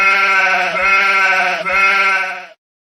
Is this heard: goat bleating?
yes